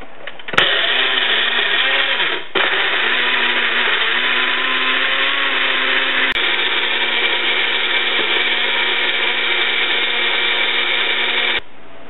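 A blender loudly whirs a smoothie of strawberries, strawberry yogurt, apples, bananas and orange juice. It starts abruptly, whines steadily with slight pitch shifts as the fruit breaks down, pauses briefly, then runs on for about eleven seconds before cutting off.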